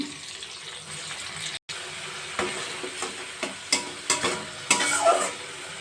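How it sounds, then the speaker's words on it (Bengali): A ground spice mixture of cumin, coriander and dried chilli powder, with salt and a splash of water, sizzles in a pan for a pointed gourd kofta curry while a spoon scrapes and stirs it in repeated close strokes. "সেই মশলাটা দিয়ে দিলাম মশলাটা ভালো করে কষিয়ে নেব"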